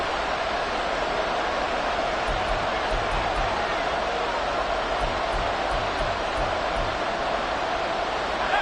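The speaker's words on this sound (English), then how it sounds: "This crowd turning up the decibel level." Stadium crowd roaring at an American football game, a dense steady wash of cheering and noise that holds loud and unbroken throughout, with no clear talk over it.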